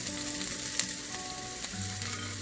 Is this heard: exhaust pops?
no